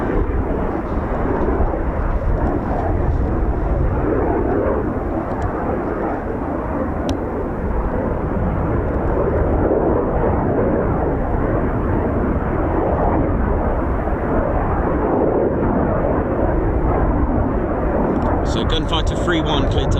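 A Eurofighter Typhoon FGR4 jet of 29 Squadron makes a low approach at RAF Coningsby, a loud, broad, continuous roar of jet engines filling the whole stretch, with a faint radio voice near the end.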